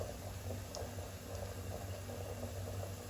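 Almond makroutes sizzle steadily in hot oil over medium heat, a continuous soft crackling and bubbling hiss heard close and fairly quiet, with no talking.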